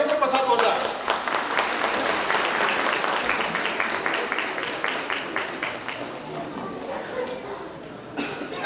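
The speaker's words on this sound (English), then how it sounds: "So please welcome him with a huge round of applause, Dr. Oza." An audience at the inaugural session of an international conference gives a long round of applause for a college principal, full and sustained clapping with a voice heard over it, fading slightly toward the end.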